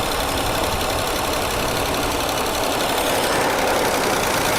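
A 1976 AMC Pacer engine runs after sitting abandoned for twenty years, a loud, steady, rough mechanical drone with a knocking rattle, close up and uninterrupted with no talking.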